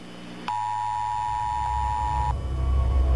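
Emergency Alert System warning tone in the Roblox game Twisted, a loud, sustained electronic two-tone beep lasting about two seconds, then giving way to a rising low rumble.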